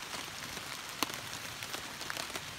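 Rain falling around a hammock camp, a light steady patter of drops on the surface with a few sharper taps, fairly quiet and heard alone.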